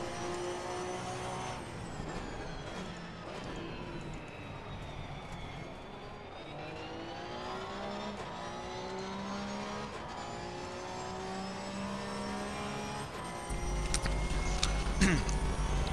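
Porsche Cup race car in Assetto Corsa Competizione at Bathurst, its engine droning steadily with rising and falling pitch through gear changes, louder near the end, with faint talk underneath.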